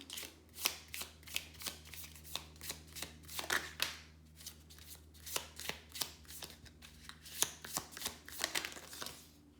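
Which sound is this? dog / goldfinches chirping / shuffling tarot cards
shuffling tarot cards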